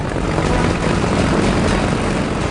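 SBD dive bomber propeller planes loaded with lighter bombs taking off over a short distance from an aircraft carrier deck, a loud continuous engine and propeller roar holding steady throughout, without speech.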